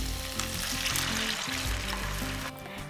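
A masala for rohu fish curry, cooked down with yogurt, sizzles loudly and steadily while being sautéed in a pan. The hiss stays constant and dips slightly near the end, with no voices.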